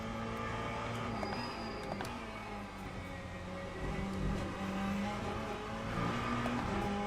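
A race car engine in the Le Mans Ultimate racing game drones continuously at steady power, with a tonal whine and a faint rise in pitch as the car drives on through a corner.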